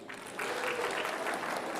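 Audience applause at a church talk, with the crowd clapping to vote for a pick, a short steady wash of many hands alone for under two seconds.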